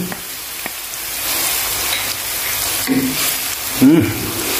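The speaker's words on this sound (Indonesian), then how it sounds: "Setelah minyaknya panas, kita masukin bumbunya tadi teman-teman. Ini kita tumis dulu ya." Spice paste sizzling in hot oil in a home kitchen, a steady loud frying hiss with a few scraping stirs of a utensil, no talking.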